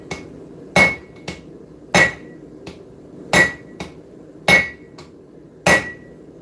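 A blacksmith's hammer strikes hot metal on an anvil, forging and stretching the stock in a shop. The blows are sharp, ringing and evenly spaced about once a second, with lighter taps between them and quiet in the gaps.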